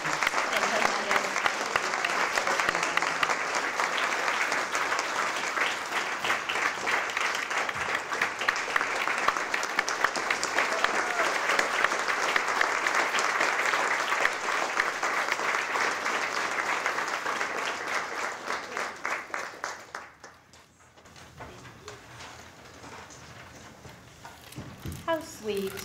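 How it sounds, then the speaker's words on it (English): A Franklin County Chamber of Commerce breakfast audience applauds loudly and steadily for about twenty seconds before the clapping thins out and dies away, leaving quieter room sound. "please join me in one last round of applause to thank Diana for her steadfast dedication and tremendous."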